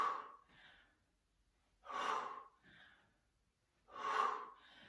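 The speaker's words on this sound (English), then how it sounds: "you're just breathing, focusing on the exhale" A person exercising the core breathes in a slow, repeating pattern, with three strong, audible exhales each followed by a softer breath, close and alone.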